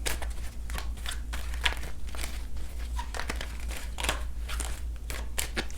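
Tarot cards are shuffled close by with a continuous papery crinkle and rapid flicking riffles over a low background hum.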